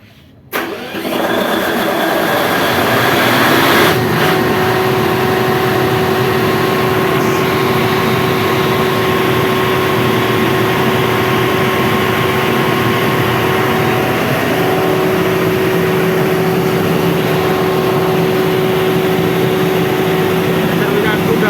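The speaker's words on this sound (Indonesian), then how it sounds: "Ini kita coba kirim sinyal start genset." A Mitsubishi 1250 kVA diesel generator set cranks and fires after a brief quiet moment, then settles into a loud, steady running roar with a constant hum that fills the rest of the stretch.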